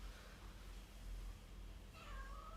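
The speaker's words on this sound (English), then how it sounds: "can hear my cat in the background." A faint cat meow rises near the end over a low steady background hum, distant and quiet.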